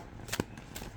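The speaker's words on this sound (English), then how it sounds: "look at how nicely that swooshes and shuffles. And then let's do some hand over hand" Tarot cards with thin cardstock being shuffled hand over hand, giving a quick pair of soft swooshing riffles close up, fairly quiet with no talking.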